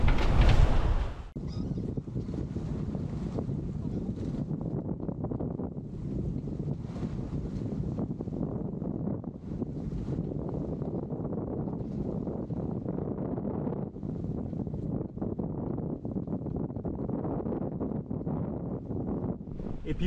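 Sailboat under sail off the north of an island on a crossing from Mindelo to Dakar, with steady broadband wind and water rush filling the scene continuously, a brief louder gust at the start.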